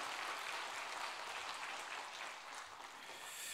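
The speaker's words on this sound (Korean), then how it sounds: "우리 다시 한번 힘내시라고 격려의 박수 하겠습니다." A congregation at an early-morning New Year special prayer service applauds the choir, a soft, distant, continuous wash of clapping that holds steady throughout.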